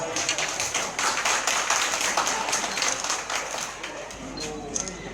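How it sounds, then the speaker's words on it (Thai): An audience at a school welcoming ceremony for a new principal breaks into steady applause, a dense patter of many hands that thins and fades toward the end. "ขอเสียงปรบมือครับ"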